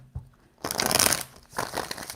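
A deck of tarot cards is shuffled, a short tap followed by two quick riffling, papery bursts close to the microphone.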